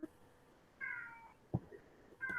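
A cat meows twice, short and fairly close, with a soft knock between the calls in an otherwise quiet room.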